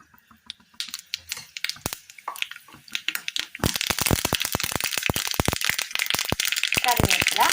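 Mustard seeds spluttering in hot oil, with sparse popping at first that builds into dense, rapid crackles, close and fairly loud, under a voice speaking.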